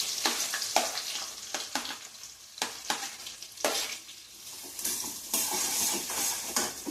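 Green chillies fry in a pan for soya chunks manchurian, a bright crackling sizzle broken by repeated quick scrapes and clinks of a spoon stirring, close and with no voices.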